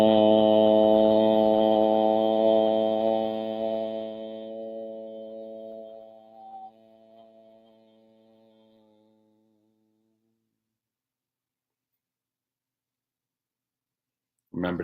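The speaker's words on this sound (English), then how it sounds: "Om. It's a pure nasal sound," A single sustained toned Om chant in a steady male-range voice, rich with harmonics, held for several seconds and slowly fading into silence, with a brief sharp sound at the very end.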